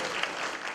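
A church congregation applauds in a brief burst of many hands clapping together, an even wash of claps heard at moderate loudness.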